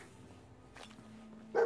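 A dog in the game Fallout 4 gives one short, fairly close bark at the very end, rising above a low hum of game ambience.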